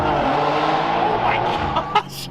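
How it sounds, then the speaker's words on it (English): A car engine with its valves open revs hard and loud in a sustained, rumbling roar, ending in a couple of sharp bursts near the close, with voices in the background. "This car sounds like the God of Thunder raining down lightning bolts."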